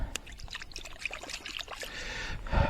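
Water splashes and trickles in short bursts as a small coin is rinsed, with a louder slosh near the end.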